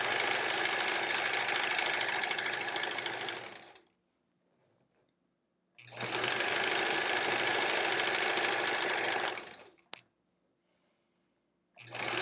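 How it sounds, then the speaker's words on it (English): Sewing machine stitching quilt strips, two long runs of fast steady whirring and clattering separated by quiet pauses with a small click, close and loud. "Just sew these simple, simple strips."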